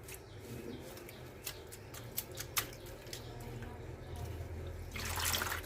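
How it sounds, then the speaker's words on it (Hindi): Fresh coriander leaves swished in a basin of water to rinse off soil, with soft splashes and a few sharp clicks under a steady background, then a louder rush of running water at the end. "कम से कम 2 से 3 पानी वॉश करना है, पानी बदल बदल के, क्योंकि मिट्टी बहुत होती है इसमें"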